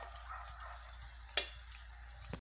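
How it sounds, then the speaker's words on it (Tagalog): Squash flowers and vegetables being stirred in a pan, a soft continuous sizzle with a single sharp scrape or clink of the utensil partway through and another brief knock at the end, no talking. "haluin lang natin"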